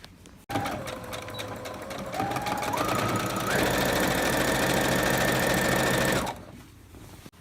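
Sewing machine hemming cotton fabric, a loud, close mechanical whir that starts suddenly and speeds up in steps until it runs fast and steady, then stops abruptly.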